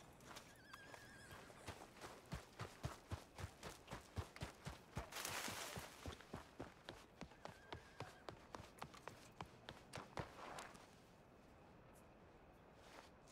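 A horse in a roleplay video game trots with a steady run of close, distinct hoofbeats, a burst of neighing breaking in midway before the rhythmic clip-clop resumes and fades.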